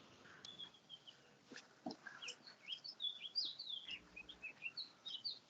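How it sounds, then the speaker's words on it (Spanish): Small birds chirp and tweet in quick, high bursts throughout, fairly close, with a faint low background hum and no talking. "ruido de pajaritos también ahí"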